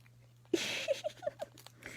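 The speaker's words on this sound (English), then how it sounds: "And you can hear the crunching." A small rodent, a wildlife ambassador with cheek pouches and strong front teeth, crunches food in a short burst of close, crisp bites and a few separate snaps, with quiet pauses and a faint steady hum underneath.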